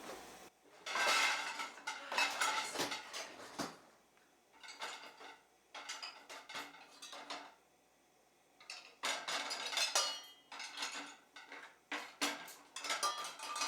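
Dishes, pots and cutlery clatter and clink in bursts during a home-kitchen cleanup, with short pauses between handling and a quiet background.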